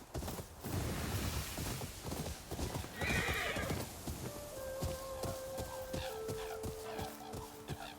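Horse in the samurai video game Ghost of Yotei, rapid galloping hoofbeats on the ground followed by a loud whinny, close and clear, with game music notes entering toward the end.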